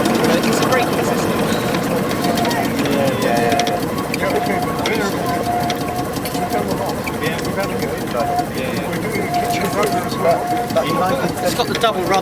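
A Stirling engine on a model boat with a braking system and double rudder runs fast on the bench, giving a continuous, loud mechanical whirr and rattle with a faint steady tone, with voices talking over it.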